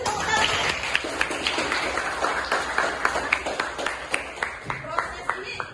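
A class gives applause during a school lesson, with a run of sharp, evenly spaced claps that turns into a steady rhythmic beat toward the end, heard close by over voices talking.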